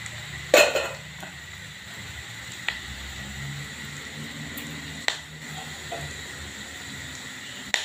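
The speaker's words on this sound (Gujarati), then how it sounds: "હવે આપણે આ બધા સૂકા મસાલા નાખીશું વઘારમાં, એને પણ સરસ ફૂટવા દેશું." Dry whole spices crackle in hot oil for a tempering, heard as a few sparse, sharp pops spaced seconds apart over a steady low hiss.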